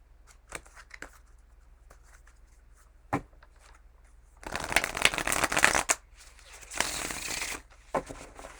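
Scattered card snaps and taps, then two dense riffle-shuffle bursts of a deck, close and crisp, with quiet gaps between.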